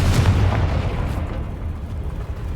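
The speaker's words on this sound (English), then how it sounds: "Confringo!" A Confringo fire spell in Hogwarts Legacy lands as a loud, booming explosion that rolls into a rumbling tail and fades slowly over a couple of seconds.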